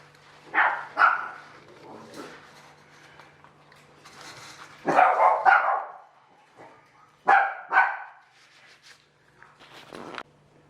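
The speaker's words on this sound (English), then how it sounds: "somebody's just arrived, so the dogs are having a little bit of a yap" Several dogs bark and yap in bursts at a visitor's arrival, with repeated sharp clusters of barks and a few whimpery yips, fairly close and loud over a low steady hum indoors.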